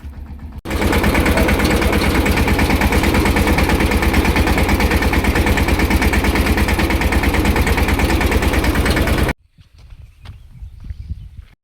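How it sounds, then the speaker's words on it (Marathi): A tractor engine runs loud and close on a farm, with a fast, steady diesel chugging that holds for about nine seconds. It then cuts off abruptly, leaving quieter scattered sounds. "आता ट्रॅक्टर घेऊन जायचं फटाफट मक्यात."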